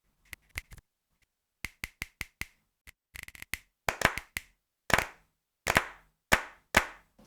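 Sampled finger snaps chopped on a Maschine MK3 play as a string of sharp, dry clicks, some in quick bursts, others spaced apart, growing slightly fuller and more resonant toward the end.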